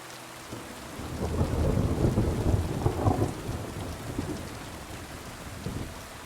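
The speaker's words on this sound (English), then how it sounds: "Cozy rain sounds." Steady rain pours with a deep rolling thunder rumble in the medieval open world of Kingdom Come: Deliverance II, near an herb garden, continuous and fairly loud with no voices.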